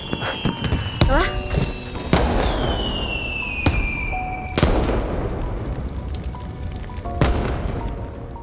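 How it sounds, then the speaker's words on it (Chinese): Leftover fireworks going off nearby, with sharp booms and crackles spaced a second or so apart and a couple of long descending whistles ringing out between blasts. "咱把剩的烟花放了吧"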